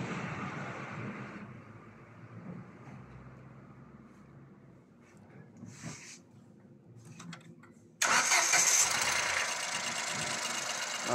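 A Ford Fiesta EcoBoost direct-injection engine with a newly fitted cylinder runs at a steady idle, then abruptly becomes much louder and harsher near the end as it is revved.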